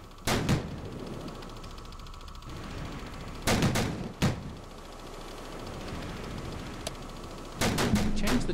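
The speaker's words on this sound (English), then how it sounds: "All guns fire at that same point." Naval guns firing in the World War II naval warfare game Victory at Sea Atlantic, with several sharp booming salvos in clusters separated by pauses, over a steady background rumble and no talk.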